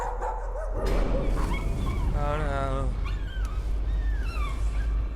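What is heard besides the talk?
dog barking in video game Layers of Fear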